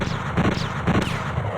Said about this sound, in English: We have a new weapon because we have our manual bolt gun.